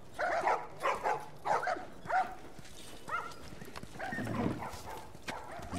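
A dog in The Last of Us video game barks in a quick run of five loud, close barks, followed by softer whimpers and yips.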